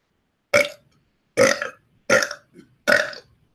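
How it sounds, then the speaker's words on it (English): A man belches on command four times in a row, each burp loud, short and close, with brief silent gaps between them. "That's my belching on command."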